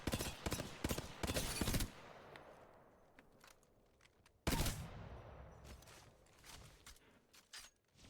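Burst-fire weapon shots in a video game come in sharp, loud rapid clusters at the start, pause, then another strong burst around the middle, followed by lighter scattered shots and mechanical clicks.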